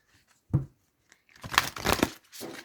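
Quick papery rustling and riffling of a deck of oracle cards being shuffled, a short crinkle and then a couple of brisk bursts, close by in an otherwise quiet room.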